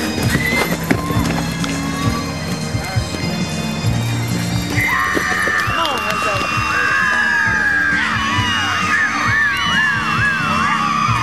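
Tennessee Walking Horses at a horse show moving with rhythmic hoofbeats and repeated neighs and whinnies, under a busy crowd and an announcer calling gaits, loud and close throughout.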